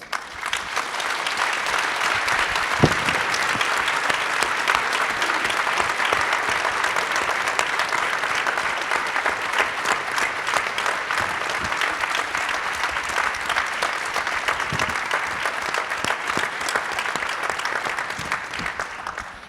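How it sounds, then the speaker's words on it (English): Sustained audience applause at a plenary session on defending human rights defenders, approving a motion: dense, steady clapping from a large crowd held at an even level for nearly twenty seconds before tapering off, with no talk over it. "If so, please, a big applause"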